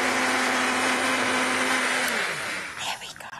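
A blender whirs steadily while mixing a gut-friendly smoothie, loud and close with a sustained motor hum, then winds down and stops near the end, leaving a few small clinks.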